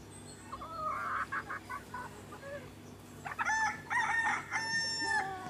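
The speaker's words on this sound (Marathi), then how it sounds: "कोंबडे पण भरपूर आहे त्याच्यामध्ये" Six-month-old desi hens and roosters roam a village poultry farm in Ratnagiri. Clucking comes first, then a rooster crows loudly nearby, several long wavering calls over a quiet background.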